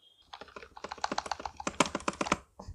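A lubed Amkette EvoFox FireBlade membrane keyboard with greased stabilizers is typed on up close in a quick run of soft, muted keystrokes that builds to a fast flurry before stopping.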